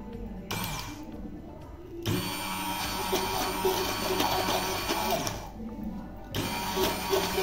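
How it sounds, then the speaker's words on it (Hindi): A blender runs close and loud, mixing a homemade rose water serum. The whirring is steady with a couple of brief dips, and no one speaks over it. "अब हमने इसको ब्लेंड करना है।"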